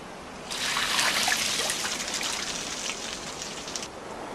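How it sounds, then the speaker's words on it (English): Water trickles and patters steadily over wooden racks set out in the cold to grow ice, a broad continuous splashing hiss that swells in at the start and fades near the end. "ice farmers repeatedly douse specially designed wood racks with water"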